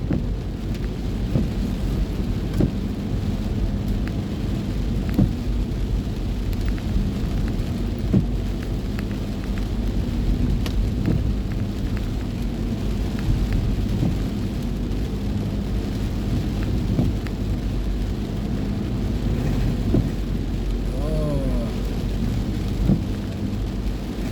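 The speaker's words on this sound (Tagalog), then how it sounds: "Wala na talagang tigil ang ulan." Heavy typhoon rain pours steadily with a low rumbling undertone like distant thunder, a constant wash of noise with occasional sharper drips.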